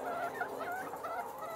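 Layer chickens on a farm clucking softly in a steady, faint murmur of overlapping calls, with no talking.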